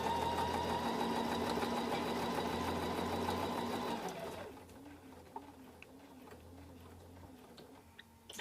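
A sewing machine runs steadily for about four seconds while stitching fabric, stopping to back stitch at the end, then falls quiet to a faint rattle and soft handling sounds.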